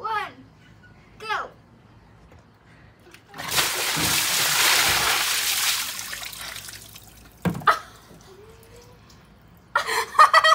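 A bucket of cold water dumps over a person in one long, loud, gushing splash lasting a few seconds, with people talking and exclaiming before and after.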